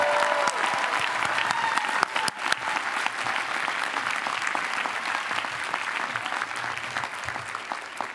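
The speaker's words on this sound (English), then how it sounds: "They deserve a huge round of applause." Sustained applause from a graduation audience for the staff, a steady dense patter of many hands clapping evenly at moderate distance, with no voices rising above it.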